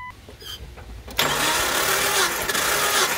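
A Jeep Cherokee 4.0 engine cranks during a compression test with the throttle held wide open. A quiet stretch gives way to a sudden, loud, sustained churning roar that runs to the end.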